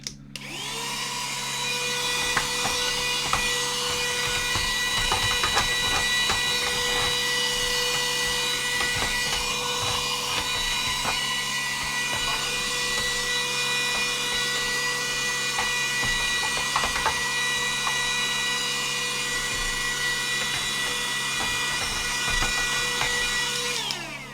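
A vacuum cleaner removes loose dust from a Dragon 32 computer case at close range, a loud constant whine with a high-pitched motor tone that holds throughout without pause.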